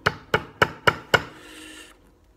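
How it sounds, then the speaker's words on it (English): Five sharp hammer strikes drive a metal staple over barbed wire into a wooden baseball bat, evenly spaced and close, followed by a short fading ring. "hammer it in a little bit"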